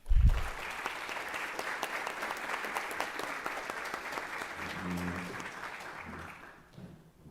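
Sustained audience applause for a panel of speakers at a talk on OCD and ADHD in children, steady dense clapping for about six seconds that fades out at the end.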